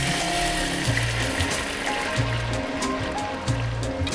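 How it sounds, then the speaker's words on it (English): Wine poured into a pan of simmering sauce gives a steady liquid trickle and splash, with repeated low bubbling surges close by throughout. "Now it's time for us to throw in the wine"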